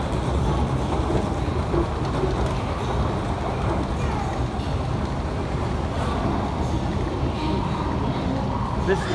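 A Shanghai Metro Line 11 train hums and rumbles steadily at a platform, a broad continuous roar with faint voices mixed into the station noise.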